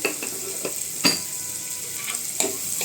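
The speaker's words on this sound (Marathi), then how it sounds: "कांदा आपण चांगला परतून घ्यायचा." Onions with a little salt fry in a pan for a brinjal potato curry, a steady gentle sizzle broken by a few sharp stirring clicks, close by.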